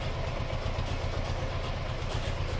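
A 1997 Isuzu Panther 2.5 diesel idles during an emission test after an engine rebuild and service, a steady low throbbing rumble heard close and alone.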